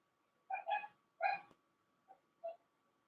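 Household dogs bark and yip in a few short, sharp bursts indoors, two quick barks then fainter yelps after a pause, at moderate distance with no talking.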